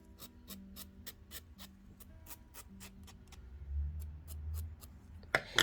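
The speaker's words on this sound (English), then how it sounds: "I'm already filing" Quiet, regular rasping strokes of a file on metal, evenly spaced like ticking, close up, with a sharp knock at the very end.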